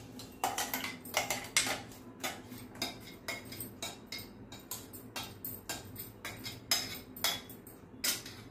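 Ground almond paste goes into a pot with a run of quick metallic clinks and scrapes of a spoon against the vessel, close and fairly quiet.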